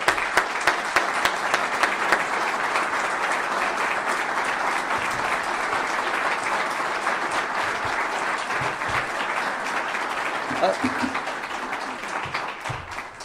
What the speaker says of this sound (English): I want to give these guys a round of applause.